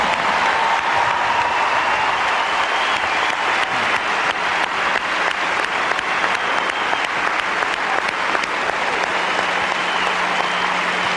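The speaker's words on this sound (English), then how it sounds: "how about a wonderful hand of applause for two tremendous champions" A large tennis crowd gives sustained, dense applause at the 2000 US Open final trophy ceremony, loud and continuous for the whole stretch, with no one speaking over it.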